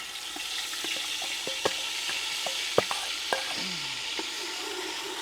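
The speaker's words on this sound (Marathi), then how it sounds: "पातेलं ठेवूया चुलीवर तेल ओतूया त्यामध्ये आता आपण कांजी बनवण्यासाठी कांज्याचा मसाला टाकूया" Ground masala frying in oil in a pot over a wood-fired stove outdoors, a steady close sizzle with scattered light crackles and occasional stirring clicks, no voices.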